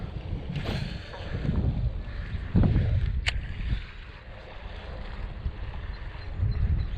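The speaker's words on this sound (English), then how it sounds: "The wind is actually really crashing into these rocks here, like straight into them." Strong wind buffeting a rocky shoreline on a lake bank during a 30 mph blow, a steady broadband rush with gusty low rumbles and a brief sharp knock midway, loud and continuous with no talking.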